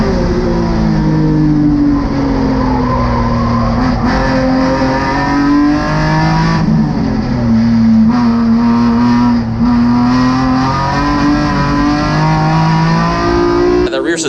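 GRIDLIFE GLGT race car at Gingerman Raceway with a failing rear suspension, its engine droning loud and close, pitch rising and falling through gear changes and throttle lifts.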